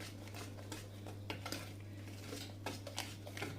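Chocolate cake batter being mixed in a bowl, with repeated scraping clinks of a utensil against the bowl over a steady low hum, close and irregular.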